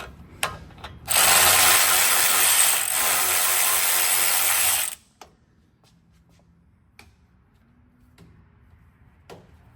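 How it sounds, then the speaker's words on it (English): An electric ratchet zips loudly for about four seconds while removing bolts on a truck during a wheel bearing job, then stops, leaving faint clicks and small metallic clinks of parts being handled. "Then I'll use my handy dandy electric ratchet to take these off."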